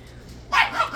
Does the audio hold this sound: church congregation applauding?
no